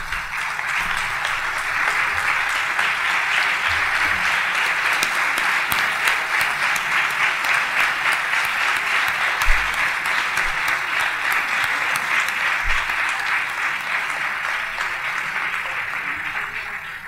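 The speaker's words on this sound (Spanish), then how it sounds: "es el momento de levantarse y darles ese aplauso" Graduates at a diploma ceremony for the ETSI Sistemas Informáticos give their families a standing ovation, a loud, sustained roomful of clapping that holds evenly without pause, with a few low thumps underneath.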